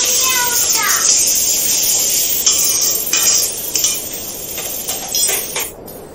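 A pot of egg curry being stirred after turmeric and chili powder go in, with a steady scraping and clinking of a utensil against the pot over continuous sizzle, close and fairly loud throughout.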